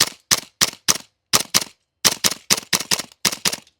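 Double Eagle Noveske N4 airsoft gas blowback rifle firing on semi-auto, a string of about fourteen sharp, loud, close shots in uneven bursts, with brief pauses between groups and no talking.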